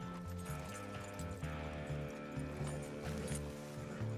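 Horse hooves in Red Dead Redemption 2 clip-clop in a steady galloping rhythm, a continuous repeating thud pattern at moderate volume with faint game ambience behind.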